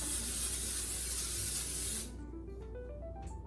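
Cooking spray hisses from an aerosol can onto a scone pan, a steady close spray lasting about two seconds before cutting off, followed by quiet kitchen background.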